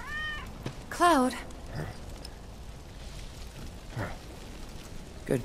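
A cat meows in Final Fantasy VII Remake, two short, clear meows near the start over a steady background of rain-like ambience, with a few faint further mews later.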